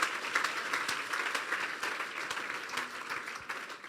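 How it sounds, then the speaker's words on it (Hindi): Sustained applause from a church congregation during a New Year sermon, a dense wash of many clapping hands filling the room evenly from start to finish. "खुदा की खादमा के लिए जोरदार तालियां"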